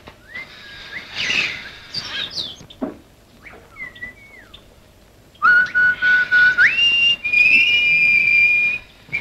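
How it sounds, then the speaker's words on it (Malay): A bird whistles clear, sliding notes in short phrases, then a louder, sustained run of rising and falling whistles close by, with no speech. "burung mana pula yang siul?"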